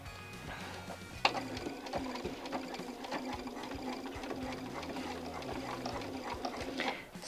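A sewing machine stitching an hourglass quilt block, whirring close by in steady runs of rapid needle strokes, with short pauses and a sharp click as the fabric is worked between pins.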